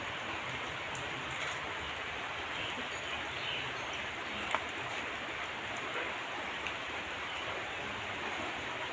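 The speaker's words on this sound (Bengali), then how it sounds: "বাইরে প্রচুর পরিমাণে বৃষ্টি" Heavy rain falling outside, a steady dense wash of noise without pause, moderately quiet and even throughout, with no talking.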